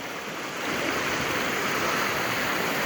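Water runs in a stream outdoors as a steady, broad rushing wash. It is close and fairly loud, swelling slightly after the first half second and then holding even, with no voices.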